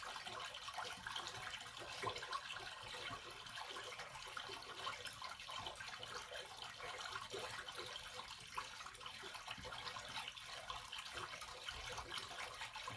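Water pours steadily from a fountain at the Tirta Empul temple in Bali, a continuous soft splashing rush that stays even throughout, quiet and unbroken.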